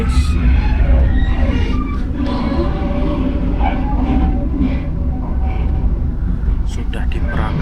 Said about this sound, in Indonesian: kereta sudah diberangkatkan